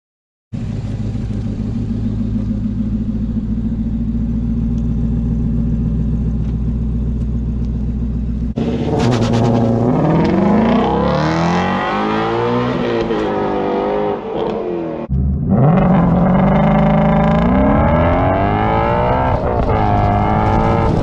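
A Ford Mustang GT350 idles with a deep, steady burble, then revs hard in repeated climbing sweeps of its exhaust note, loud and close, with a brief dip before another strong rev run.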